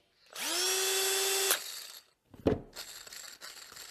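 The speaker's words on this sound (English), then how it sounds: "you can just hear the difference sometimes in these drills. Listen to the Milwaukee." A Milwaukee cordless drill spins up and whines steadily at close range for about a second, then stops; rattling, clattering handling knocks follow.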